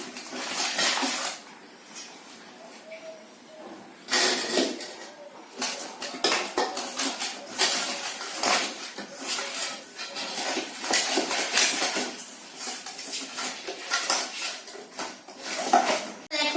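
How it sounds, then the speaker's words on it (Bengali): Catla fish heads mixed by hand with salt and turmeric in a metal bowl, giving close clattering and scraping knocks against the bowl in irregular bursts, with a few quieter gaps between them. "ভালো করে লবণ হলুদটা মাখিয়ে নিই।"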